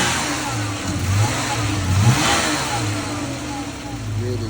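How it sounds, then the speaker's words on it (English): A 2019 Dodge Challenger engine with about 61,800 miles revving and idling nearby, a deep rumble rising and falling in a few throttle blips before settling back. "Hear the engine on this one."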